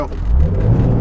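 A car accelerating hard during a timed acceleration pull, its engine giving a loud, steady low rumble and whir that holds strong throughout the short stretch with no talk over it.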